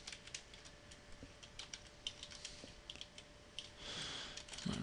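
Quick, irregular keystrokes tapped on a computer keyboard while code is entered, a steady close-up patter of light clicks with brief pauses and no voices.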